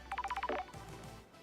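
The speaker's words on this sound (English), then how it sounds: "Phone call." A phone in the video game Paradise Killer sounds a quick run of about six short electronic beeps, like dialing tones, followed by a brief warbling chirp, close and clean with no voices.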